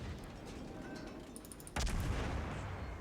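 Warship guns fire armour-piercing shells in World of Warships, a faint crackle of distant shots followed by one sharp, heavy report and a sustained rumbling tail, fairly quiet overall.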